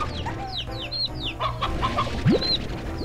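Chickens clucking in the video game Slime Rancher, several short clucks and squawks repeating over soft game ambience with chirpy background sounds, at moderate distance.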